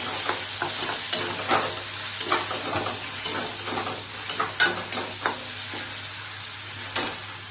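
Tomatoes frying in a hot pan for a Bengali paneer soybean cashew-almond curry, a steady close sizzle broken by the scrapes and clacks of a spatula stirring, no talking.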